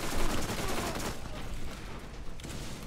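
SMG gunfire in Borderlands during co-op play, rapid dense bursts of shooting layered with other weapons, loud and continuous with only slight dips in intensity.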